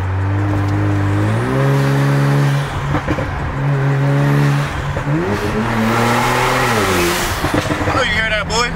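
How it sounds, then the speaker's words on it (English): Car engine with a turbo revving hard, rising and falling pitch through repeated pulls, close and loud, with someone talking excitedly over it and a brief whooshing burst near the end. "Hear that turbo, boy?"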